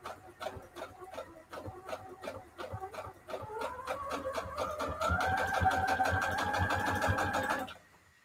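Sewing machine running a straight stitch through a junk-journal book spine, steady rapid needle clatter that starts slow, picks up speed and holds a rising motor whine before stopping abruptly.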